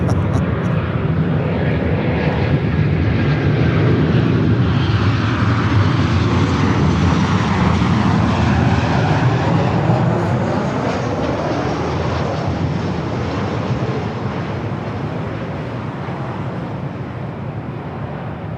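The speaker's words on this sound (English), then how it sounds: "That's a flight coming in from Detroit." An airliner arriving from Detroit passes over LAX with a loud, sustained jet roar that swells and then slowly fades as it goes by.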